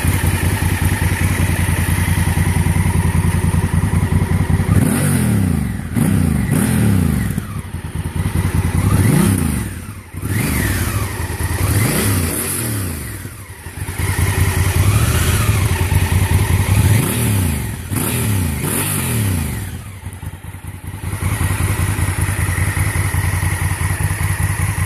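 A Honda Africa Twin motorcycle engine revs repeatedly up close, a series of rising and falling throttle blips over a steady idle rumble, with no talking.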